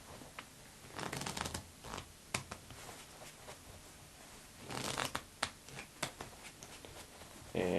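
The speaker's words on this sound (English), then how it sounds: "I'm going to do it in 3 shuffles." A deck of playing cards shuffled by hand three times, heard as quiet, close bursts of riffling and snapping cards with soft handling noise between them and no talking.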